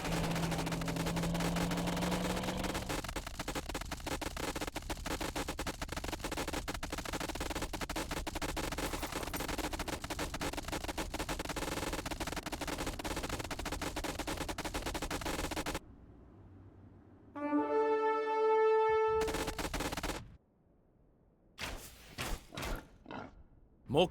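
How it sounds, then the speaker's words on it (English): Catapult shots crash into walls during an Age of Empires II battle, a dense stretch of rapid thudding impacts, then a few loud isolated crashes separated by brief quiet. "More catapult shots have arrived"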